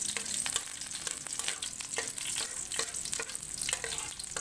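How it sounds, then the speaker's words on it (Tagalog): Garlic fries in hot oil as it browns for a catfish adobo, giving a steady, close crackling sizzle with stirring scrapes and no voices. "Ilalagay na natin itong bawang hanggang mag-brown"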